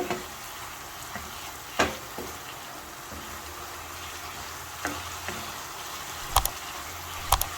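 Chicken mince frying in a pan while being stirred, a soft steady sizzle broken by several sharp scrapes and clinks of a spoon against the pan, fairly quiet and with no talking.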